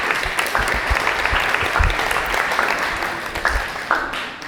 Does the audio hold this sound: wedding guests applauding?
yes